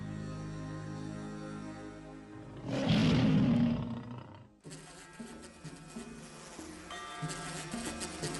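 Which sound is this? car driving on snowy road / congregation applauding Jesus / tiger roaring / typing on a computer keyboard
tiger roaring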